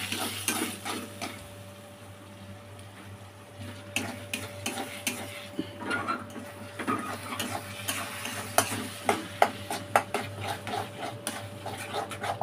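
Five beaten eggs mashed and stirred in a pan for egg bhurji, with repeated scraping and tapping of a utensil against the metal and a soft frying hiss underneath, close and irregular with no talk.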